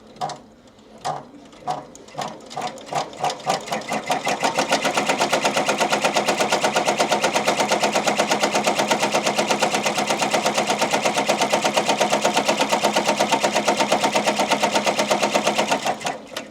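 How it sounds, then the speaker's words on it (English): An embroidery machine begins with a few separate stitch clacks, then speeds into a steady, rapid mechanical chatter of needle strikes that runs evenly for over ten seconds before stopping. "and then I'll just slow down the embroidery process"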